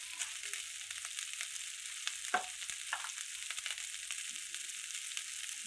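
Turmeric and spice masala roasting in hot oil in a home kitchen, giving a soft, even sizzle throughout with a few faint stirring scrapes and small clinks on top, quiet and with no talk.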